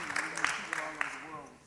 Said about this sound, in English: Let's give them a round of applause for getting that done.